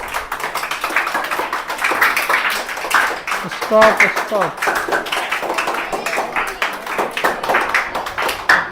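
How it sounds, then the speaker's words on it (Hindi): A classroom claps for a student in a live Hindi grammar lesson, brief scattered clapping mixed with close talking and shouting to stop. "चलिए, ताली बजाए आनंद कुमार के लिए"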